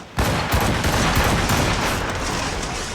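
Cannon fire in Assassin's Creed Rogue: a loud volley of booming shots begins abruptly and rolls on in dense overlapping blasts for the rest of the moment, with no talking.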